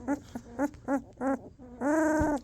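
Two-week-old Belgian Malinois puppies vocalize close up, giving four short rhythmic whiny growls followed by one longer drawn-out cry.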